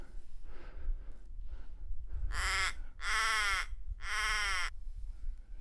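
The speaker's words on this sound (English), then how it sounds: "that's a crow sitting above me" A crow in snowy alpine terrain gives three loud, harsh caws in a row, close overhead, against near silence with faint wind-like rumble and no talking.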